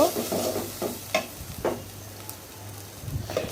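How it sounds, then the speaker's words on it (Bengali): A spoon stirs homemade garam masala through frying food in a pan, with a handful of scraping strokes over a low sizzle, close and alone. "আমার হাতে বানানো গরম মশলা 1 চামচ দিয়ে আমি ভালো করে নাড়াচাড়া দিয়ে নিচ্ছি"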